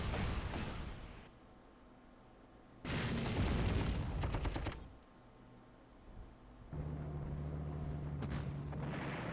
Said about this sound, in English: But our tanks are smashing through the enemy resistance. The artillery is perfectly lined up.